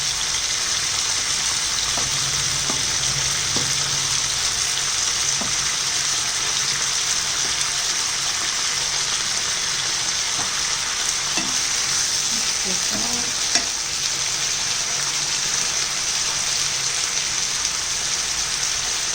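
Onions frying in oil in a pan for a potato-onion sabzi, a loud, unbroken crackling sizzle heard close, with occasional soft stirring scrapes and clinks.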